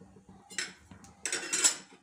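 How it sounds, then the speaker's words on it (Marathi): Dry ingredients roasted without ghee in a pan on a low flame. A metal spatula scrapes and clinks against the pan in two short, close bursts. "हे बघा, अशा प्रकारे लो फ्लेमवर छान असे रोस्ट करून घ्या।"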